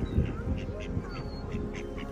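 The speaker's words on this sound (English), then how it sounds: "I've never seen this much geese." A crowd of birds honks and quacks in short repeated calls, near and busy, with people talking over them.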